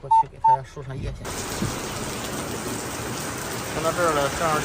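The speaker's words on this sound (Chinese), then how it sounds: "就这会儿刮风下雨" Heavy rain pours steadily onto a wet road in wind, a dense hiss that begins after two short electronic beeps and some brief talk, with voices rising faintly over the downpour near the end.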